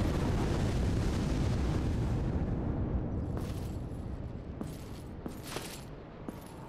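A dragon's fire attack in Dark Souls Remastered makes a loud, dense roaring rush of flame that slowly thins out. Sharp crackles and impacts follow near the end, and no voice is heard.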